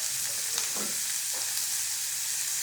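Finely chopped beans and carrots fry in a pan with a steady close sizzle and a couple of soft stirring scrapes, with no talking.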